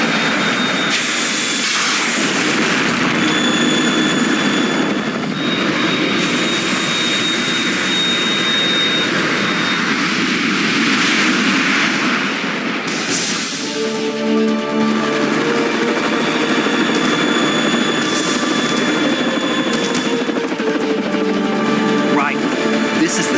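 A Harrier jet in Metal Gear Solid 2 howls with a loud, sustained turbine roar and high whine, blended with game effects and bursts of gunfire-like noise, while voices talk over it.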